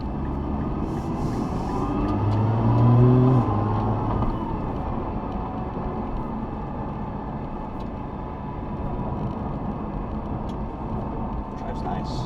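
A 2020 Nissan GT-R driving, its engine rising in pitch under acceleration then settling into a steady road roar and tire noise from inside the cabin, with a voice talking over it.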